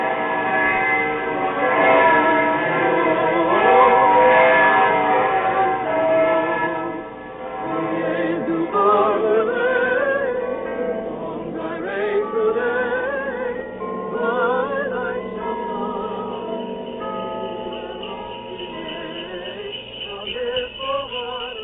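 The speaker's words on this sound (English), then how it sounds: "the evening bells began to ring high up in the Staple Tower" Evening church bells ring high in a tower, several bells chiming in overlapping, resonant peals that sustain and slowly decay, alone and prominent in an old radio drama recording.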